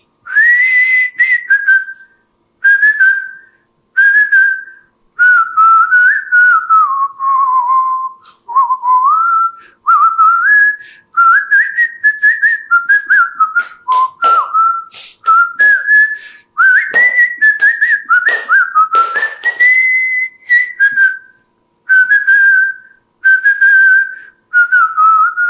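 A person whistles a film song tune loud and close, a clear melodic line in repeated phrases with short breaths and pauses between them and no other sound behind it.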